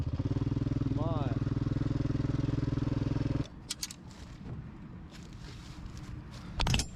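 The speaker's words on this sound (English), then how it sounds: "It's a steam engine, an authentic old steam engine." An authentic old steam engine drives down a country road near a dairy farm, giving a loud, steady, rhythmic chugging rumble for about three seconds before it cuts off abruptly, leaving quieter outdoor background with scattered clicks and knocks.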